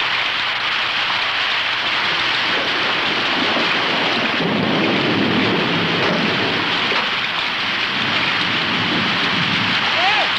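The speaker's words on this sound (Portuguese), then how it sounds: "Ai, que chuva." Heavy rain pours down steadily in a dense, continuous hiss, with low rumbling underneath and faint voices briefly audible.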